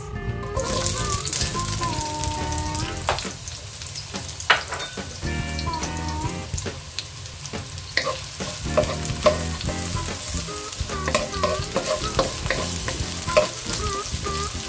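Onion fries in hot cooking oil in a pan for a pechay with egg and lomi noodle dish, a continuous close sizzle with frequent sharp clinks and scrapes of a utensil stirring against the pan.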